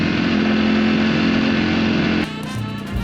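A Ducati Panigale V4 S motorcycle rides out of a village on a cold road covered in wet leaves, its engine roaring loud and steady close by, then dropping to a lower, softer drone.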